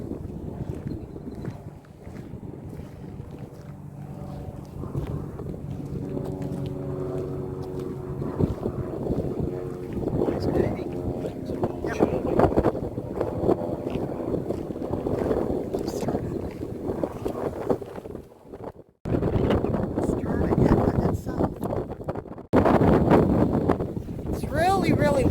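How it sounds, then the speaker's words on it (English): Strong outdoor wind buffets the microphone, a loud rumbling roar that surges and drops throughout with brief lulls, while people talk underneath. "It's really windy today, so I'm not sure how much that I can actually record because you're going to be hearing a lot of wind."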